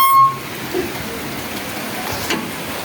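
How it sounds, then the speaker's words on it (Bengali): Rain falls outdoors at the start of a shower, a soft, steady wash of patter heard fairly close with a couple of faint knocks and no talking. "হ্যাঁ বৃষ্টি পড়ছে দেখো।"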